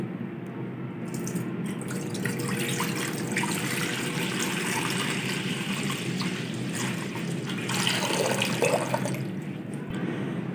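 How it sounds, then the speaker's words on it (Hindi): Water pours steadily into a kadhai, a liter pouring as a continuous gushing stream for about ten seconds, close and fairly loud, with a brief heavier splash near the end. "तो अब हम कढ़ाई में डालेंगे 1 लीटर पानी।"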